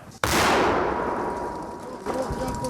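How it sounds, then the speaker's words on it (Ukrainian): A single loud, close blast from a Ukrainian forces' mortar booms and rolls away in a long echo, followed by a softer thump. "Раз. Постріл!"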